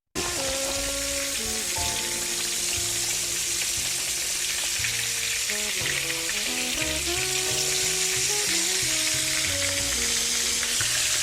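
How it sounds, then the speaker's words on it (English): Street corn sizzles loudly and steadily in a hot pan, a constant crackling hiss with a melodic tune playing underneath. "Nice little sizzle. Look at the sizzle."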